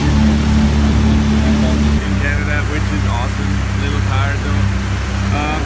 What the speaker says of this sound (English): we are on the water taxi in Bedeck